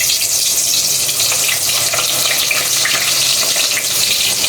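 Hotdogs, already boiled, frying in a hot pan for lunch make a loud, steady sizzle with crackling spatter that fills the whole stretch without pause.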